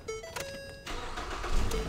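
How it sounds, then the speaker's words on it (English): A 2014 Ford Fusion starts up: a brief electronic chime and clicks, then the engine catches and settles into a steady idle close by, with no talk. "All I'm gonna do at this point is just start the vehicle up and go ahead and turn the AC on."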